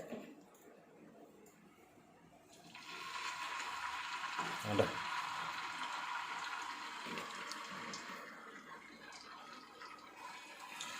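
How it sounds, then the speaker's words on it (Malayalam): Fish fries in hot oil, a soft sizzle that jumps to a louder, steady hissing crackle after a couple of seconds and keeps going, fairly quiet overall. "എണ്ണ ചൂടായേ, ഇനി മീൻ എടുത്തിട്ടെ."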